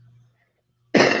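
A single loud cough bursts out near the end, following a stretch of near silence with a faint low hum.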